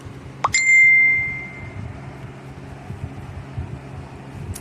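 A single clear phone notification ding, bright and ringing briefly before fading, heard close over a low steady hum of fan or air-conditioning noise.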